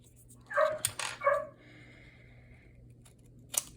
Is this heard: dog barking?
yes